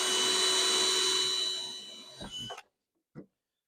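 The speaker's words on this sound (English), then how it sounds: "So what I'm going to do is just quickly drill this in" A power drill driving screws whines steadily for a couple of seconds, then winds down with a few clicks and a short final burst.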